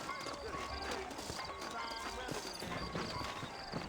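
Horse hooves in Red Dead Redemption clip-clop steadily at a trot, close and continuous, with faint voices and some background noise mixed in.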